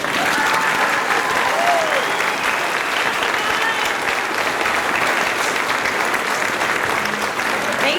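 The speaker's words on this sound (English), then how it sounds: "Let's give them a huge round of applause." An audience at a youth band concert claps in sustained, dense applause that holds steady throughout, loud and close.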